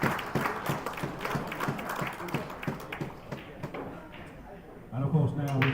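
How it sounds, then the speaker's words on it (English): An audience at a pool event gives the production crew a round of applause, scattered clapping in a moderately sized room that thins out, followed by a brief burst of voices at the end. "Guys, please, a big round of applause for these guys"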